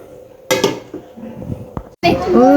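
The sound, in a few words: scrubbing cooking pots and pans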